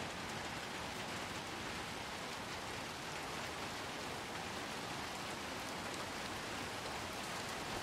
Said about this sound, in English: It is raining like crazy out here.